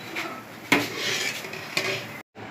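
Cooked jaggery rice with carrots being served from a pot into a dish, with close metal clinks and scrapes of a spoon against cookware, two sharper knocks among steady clatter, then a brief silence.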